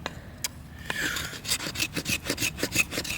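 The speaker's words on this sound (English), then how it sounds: "Yeah, it is scraping. It does produce fat wood scrapes." The spine of a BPS B1 bushcraft knife scrapes fatwood in a series of close, rasping strokes that repeat rhythmically, each a short gritty rub, with no talk.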